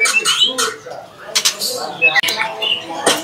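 A white-rumped shama (murai batu trotol) gives short bright chirps and whistled notes in bursts, mixed with people talking nearby.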